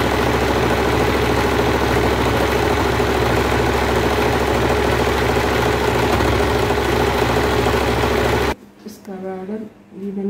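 A sewing machine runs loud and steady while stitching the border of a petticoat, its rapid mechanical chatter unbroken for several seconds before it stops and a voice speaks.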